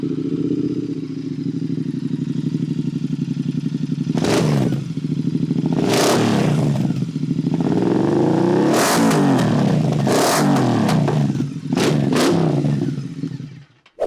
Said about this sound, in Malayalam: എന്തായാലും നമുക്ക് ഇതിൻ്റെ എക്സോസ്റ്റിനോടൊന്ന് കേട്ട് നോക്കാം